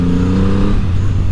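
A 2024 Triumph Rocket 3 R Storm motorcycle's big engine on the overrun, a loud, close, low rumbling burble that drops in pitch as it winds down.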